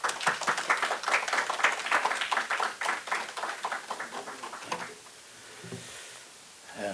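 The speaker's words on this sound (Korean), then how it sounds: "우리 목사님 나오실 때 환영의 박수 보내겠습니다" A church congregation applauds to welcome a pastor, a dense burst of many hands clapping that holds steady for several seconds and then fades out quickly.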